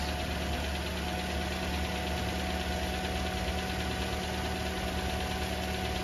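A 2011 Toyota Corolla engine running at idle, a steady close droning hum with a constant low throb and faint knock, loud and unbroken with no talking.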